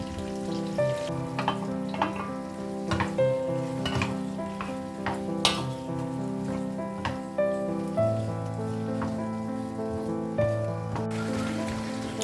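Chicken frying in a pan with vinegar, red chili sauce, tomato sauce and soy sauce, a steady close sizzle with repeated clatters of stirring and no voices.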